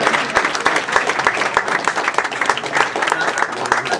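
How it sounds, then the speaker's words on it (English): Applause from a crowd of residents at a gathering with the DC Council Chairman, dense steady clapping filling the whole stretch at moderate loudness, with voices mixed in underneath. "Let's give yourselves a round of applause"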